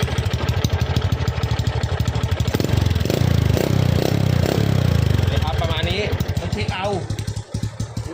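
A Honda Wave 125R motorcycle with a 54 mm piston and a slotted muffler idles quietly with a steady, rapid low chugging while someone talks over it near the microphone.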